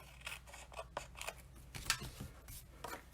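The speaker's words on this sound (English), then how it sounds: "Let me trim that." Scissors snip through card stock while trimming a piece for a handmade stamped card, a quick series of close, crisp cuts with small rustles between them.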